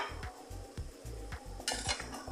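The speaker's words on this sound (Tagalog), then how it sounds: "Haluin natin para ma-incorporate ang kanyang hipon sa lahat ng ampalaya." Shrimp and bitter gourd are stirred in a pan, a utensil scraping and clinking in a regular rhythm of about four strokes against a soft sizzle, close up and without speech.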